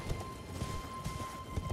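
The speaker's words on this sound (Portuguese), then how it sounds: "Então você vai pegar o seu cavalo" A horse gallops in Elden Ring with a quick, uneven run of soft hoof thuds, fairly faint, over a thin steady background tone.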